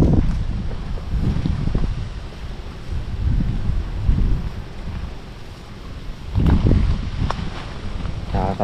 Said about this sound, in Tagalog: Lakas pa ang hangin.